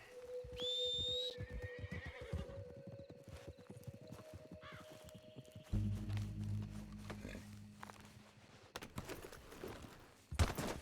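A horse in the video game Red Dead Redemption 2 lets out a sharp, high whinny near the start, followed by hoof clops and rustling movement amid quiet game ambience.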